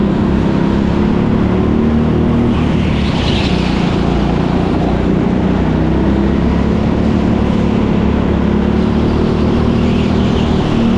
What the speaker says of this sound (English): that's pushing the kart ahead in the braking zone, but Darcy does come out in front